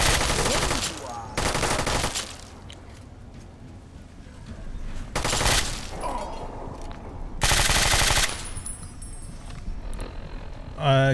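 Gunfire from a firefight in Fallout: Tale of Two Wastelands, with three loud, dense bursts of automatic shots separated by quieter stretches of low ambience and scattered game effects.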